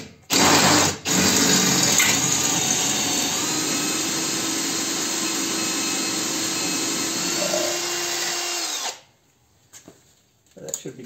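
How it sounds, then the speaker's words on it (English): Power drill boring through an air conditioner compressor, a loud steady whine that holds for about eight seconds with a brief stutter near the start, then stops abruptly into quiet. "Depending on how good your drill and your drill bits are."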